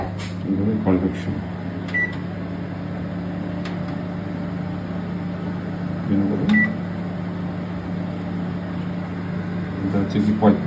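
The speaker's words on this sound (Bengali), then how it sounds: "এখন হচ্ছে দিয়ে দেবো মাইক্রোওয়েভ" A microwave oven running in convection mode gives a steady, loud electrical hum with a couple of short beeps and faint clicks, while people talk nearby.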